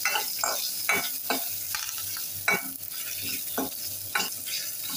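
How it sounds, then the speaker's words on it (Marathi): Onion petals sauté in hot oil for a Kerala-style sambar, a steady close sizzle broken by repeated scrapes of a stirring spoon against the pan, with no one speaking. "आता आपण कांद्याच्या पाकळ्या घालूया. या 2-3 मिनिटं तेलात परतून घेऊया."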